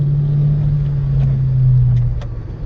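A manual car shifting into second gear and pulling away gently with no throttle while learning to drive in pouring rain, heard from inside as a loud, steady low engine drone with no talk.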